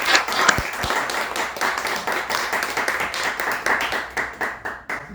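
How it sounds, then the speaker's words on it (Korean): Audience applause welcoming a visiting lecturer at a public lecture on Henry George's Progress and Poverty, a dense clatter of many hands clapping close by, swelling and thinning over about five seconds before tapering off. "박수 쳐주세요."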